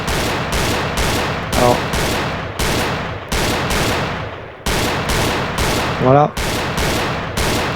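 Gunfire in the VR shooting game Gun Club VR, a loud series of evenly spaced single shots with short pauses between them, and someone speaks briefly partway through.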